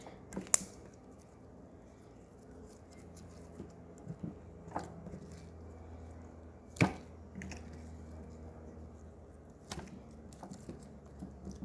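Slime is stretched and squished in soft, close, quiet squelches and sticky pops, with a few sharper snaps scattered among faint wet handling noise.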